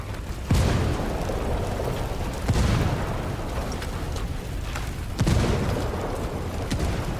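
Grenade blasts in the shooter game Ghost Recon Wildlands, three deep booming explosions spaced a few seconds apart over a constant loud rumble of gameplay noise.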